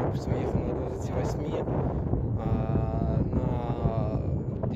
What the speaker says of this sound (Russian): ветер встречный